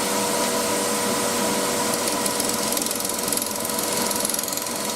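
Wood turning on a lathe as a 3/8 bowl gouge from Crown Tools cuts the spinning blank, a constant loud mechanical whir and hum with a faint rhythmic chatter running unbroken throughout.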